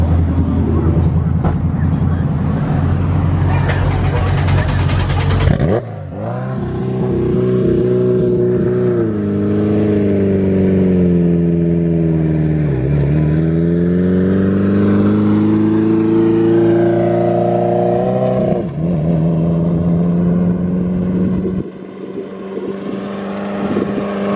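A Honda CRX on a first test-and-tune drive revs loud and close, its engine pitch climbing, dipping and surging again through repeated throttle blips with no pause.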